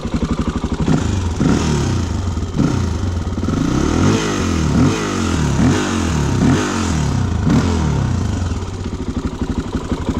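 Honda XR400 dual-sport motorcycle engine chugging over rocks, a loud close low thumping with rhythmic surges of revving and some clattering as it putters along.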